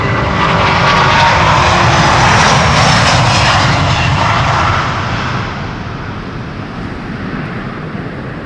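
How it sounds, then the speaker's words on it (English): A brand new Delta Airlines jet airliner on the Polderbaan runway at Amsterdam Schiphol gives a loud, steady broadband engine roar with wind buffeting, holding strong for about five seconds before easing into a quieter, more distant rumble. "Delta Airlines flight 49 on its way to New York JFK, brand new airplane"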